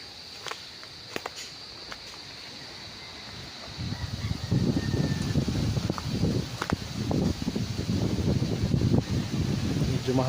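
Wind gusting across an open events place and resort in Sto. Tomas, Batangas: a soft hiss at first, then rough low buffeting and rumbling from about four seconds on, with scattered sharp ticks and knocks.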